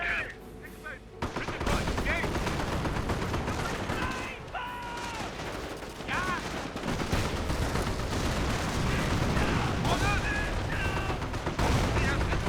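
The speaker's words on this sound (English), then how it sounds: "Machine gun ready!" Sustained machine gun fire and other gunfire in a Company of Heroes match, dense rapid bursts running almost continuously, with game voice lines briefly cutting through the din.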